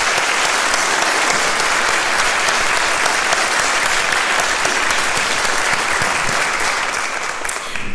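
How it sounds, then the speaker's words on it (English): A crowd at a city State of the City event gives the organizers a round of applause: dense, loud, sustained clapping from many hands, fading slightly at the very end. "Can you please just join me in a round of applause for them?"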